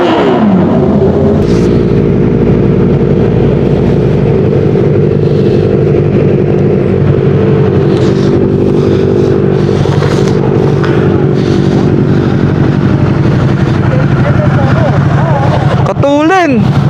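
A Kawasaki ZX-4RR motorcycle revs loudly and up close on a breakfast ride near Tagaytay, its engine note rising and falling steadily, with people talking and shouting over it.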